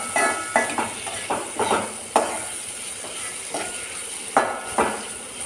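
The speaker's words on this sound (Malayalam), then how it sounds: "നമുക്കൊന്ന് ഇളക്കി കൊടുക്കാം." Hog plum pickle stirred in oil in a pan, a spoon scraping in repeated short strokes over a steady sizzle, about eight distinct scrapes spread unevenly through the stretch, with no talk.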